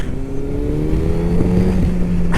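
A motorcycle engine revs steadily while being ridden, a loud continuous drone that rises in pitch, with a brief shift partway through and wind rush throughout.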